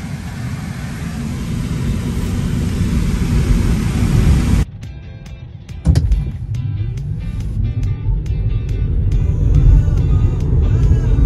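A Tesla Model 3 SR+ accelerates hard from a standstill, first a steady loud rush of road and cabin noise, then a sudden drop and a rising electric whine building with speed, with clicks and ticks along the way.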